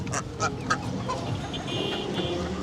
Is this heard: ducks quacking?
yes